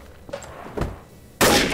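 A sniper rifle shot in the game Trouble in Terrorist Town lands as one sudden, loud burst near the end of a short stretch of quieter game ambience.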